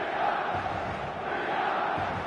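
A stadium crowd in eFootball 2026 roars as a steady, distant-sounding wash of cheering voices that holds at an even, moderate level throughout.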